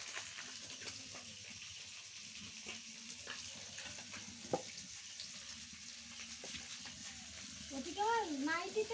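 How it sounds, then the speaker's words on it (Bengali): Fish frying in a pan with turmeric, a steady close sizzle with occasional clinks of stirring, while a voice talks over it and a voice rises near the end. "মাছ রান্না করছে।"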